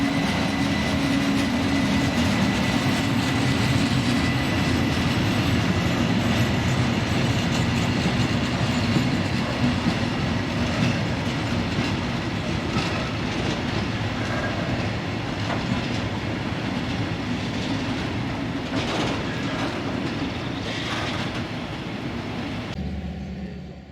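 An EP Rail Class 48 locomotive rolls into railway sidings with a loud, steady rumble of engine and wheels and a continuous clatter over the rails.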